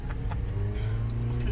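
A car passes on a street in Luton with a steady, fairly close engine and road noise that swells slightly as it goes by. No one talks over it.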